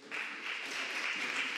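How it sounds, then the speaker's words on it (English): A crowd applauds at a distance, a soft steady patter of many hands clapping that starts abruptly and continues evenly. "Please give a big applause to Eleonora Brizi from Brizi Art."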